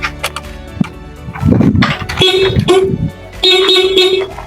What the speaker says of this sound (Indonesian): kita lakukan pengecekan klakson untuk memastikan bahwa klakson hidup.